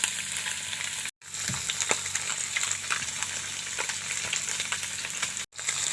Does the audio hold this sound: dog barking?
no